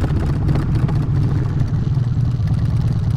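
A motorcycle engine runs loudly nearby with a steady, throbbing low rumble and some mechanical clatter, no voices.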